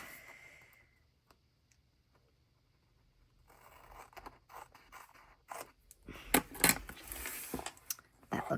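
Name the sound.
cutting paper with scissors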